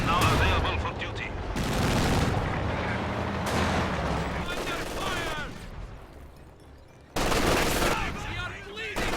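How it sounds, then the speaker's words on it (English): Bursts of automatic gunfire and heavy weapons fire strike a vehicle in a World War II strategy game match, loud rattling volleys in several waves over continuous battle noise. "Enemy is firing on our vehicle."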